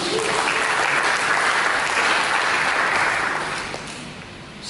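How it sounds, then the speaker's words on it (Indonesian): A church congregation applauds together during a worship service, a steady broad wash of clapping that holds for several seconds and then eases slightly toward the end. "Mari kita berikan tepuk tangan dan Tuhan."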